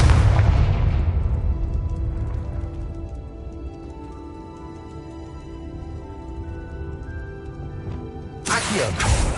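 A Confringo fire spell explodes in the Hogwarts Legacy game, opening with a loud booming blast that decays into a long ringing tail, followed by a second sharp burst near the end.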